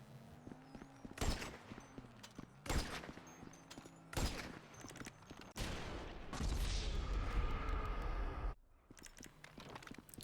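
Rifle fire in a video game, a handful of sharp separate shots spaced a second or so apart, then a longer stretch of dense, rumbling battle noise before it cuts off.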